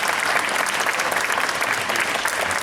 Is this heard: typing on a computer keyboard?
no